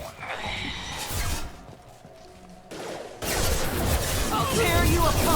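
Heavy gunfire in the video game Mass Effect 2 rattles through a busy battle mix, dipping briefly before returning as a loud, dense burst of shots in the final seconds.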